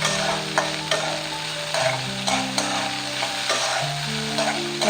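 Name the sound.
stirring kanda poha with peanuts in a pan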